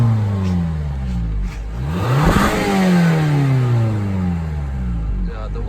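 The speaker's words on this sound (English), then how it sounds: "here we revisit the exhaust note of this Toyota Camry" A Toyota Camry revving in cold, snowy weather, its engine note climbing through several sweeping rises and falls, loud and close, without speech.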